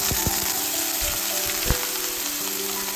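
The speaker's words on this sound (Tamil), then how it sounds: "கடுகும் கருவேப்பிலையும் பொரிஞ்சதும் நம்ம கட் பண்ணி வச்சுருக்க உருளைக்கிழங்கு சேர்த்துக்கலாம்" Cut potatoes frying in hot oil with mustard seeds and curry leaves, a steady close sizzle with a few sharp crackles and pops, no voices.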